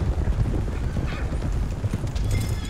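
Horses gallop in Red Dead Redemption 2, their steady rapid clip-clop of hooves close and continuous, with a short whinny cutting in partway through.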